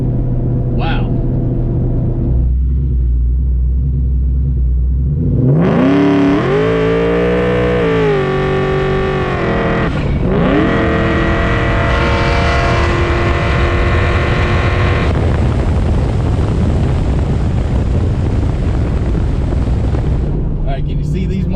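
A Ford Mustang Mach 1 with a 6R80 automatic launches hard off the transbrake, its engine rising from a loud held rev into a roaring, climbing acceleration that sweeps up through the gears and then settles into a sustained heavy drone.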